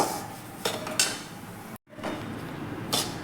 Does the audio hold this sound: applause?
no